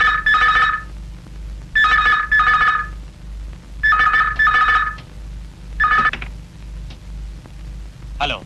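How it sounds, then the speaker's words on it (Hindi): Telephone bell in a horror film ringing in four clear bursts of double rings, loud and close, with brief gaps between them and a low steady hum underneath. "पहले तो आप फोन की घंटी का इंतजार कीजिए।"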